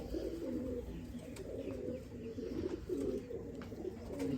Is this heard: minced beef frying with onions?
no